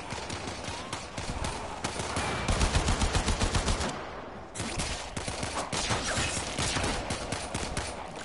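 Rapid bursts of gunfire in the video game Warframe, dense repeated shots rattling close and loud, with a brief lull midway before the shooting resumes.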